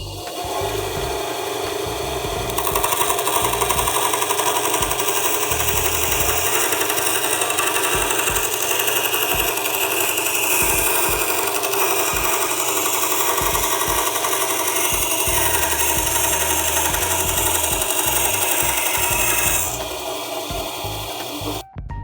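A continuous harsh, buzzing cut through wood curves from a Procraft BT350-80 band saw, steady and close for most of the stretch, with a quieter lead-in and tail.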